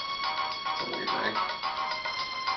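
A mobile phone ringtone plays steadily with layered tonal pitches, fairly quiet in a room, with faint background noise underneath.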